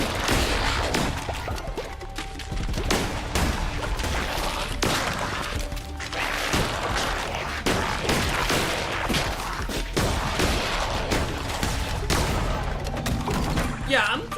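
Charged gun attack in Cult of the Lamb firing at enemies from a distance, a dense stream of repeated shots and impact crashes layered over busy game music and effects, with a voice talking throughout.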